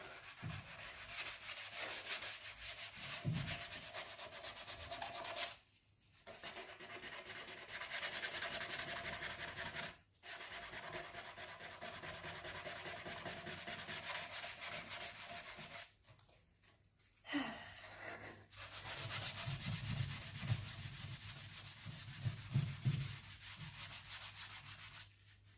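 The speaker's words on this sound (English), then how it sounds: "fortunately you're building up your sanding muscles right" Hand sanding of wood, a steady rasping scrape that runs continuously with a few brief pauses, close and fairly loud with no voices.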